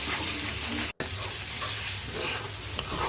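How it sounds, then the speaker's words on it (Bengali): Spice paste for shrimp bhuna sizzles and fries in a pan, a steady close hiss with stirring scrapes, briefly cut by a short gap. "মশলাটা ভালো করে ভাজবে"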